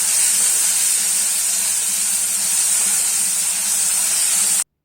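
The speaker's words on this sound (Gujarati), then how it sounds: "આપણી ડુંગળી છે સરસ બ્રાઉન કલરની થઈ જાય ત્યાં સુધીને તેલમાં ચોળવવાની છે" Finely chopped onions fry in hot oil until browned, making a loud, steady hiss and sizzle that does not let up, then stops abruptly.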